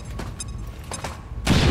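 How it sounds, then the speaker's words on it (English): A grenade explosion in the XCOM 2 video game, a sudden loud boom that bursts in near the end after a few quieter thuds and clicks. "we're going to try to take him out with this grenade here"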